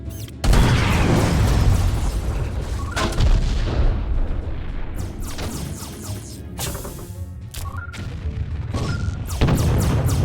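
Heavy ship cannons boom in a space naval battle in Treasure Planet: Battle at Procyon, with a loud blast opening and further crashing shots and rumbling impacts following at irregular intervals.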